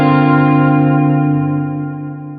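Sustained, drive-dirtied reverb from a Strymon Nightsky pedal: a gritty, harmonically rich held chord that rings loud and slowly decays over a couple of seconds.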